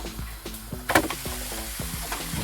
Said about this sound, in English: We want to fry this till it's all brown and there's no pink left